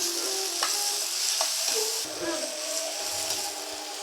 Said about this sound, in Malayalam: അത് നന്നായിട്ട് പച്ചമണം പോകുന്നവരെ നല്ല വഴറ്റി യോജിപ്പിക്കുക.